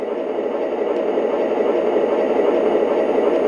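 A steady, deep engine drone with a throaty low rumble from a Lionel Seaboard C-420 model diesel locomotive, running continuously and fairly loud with no pauses.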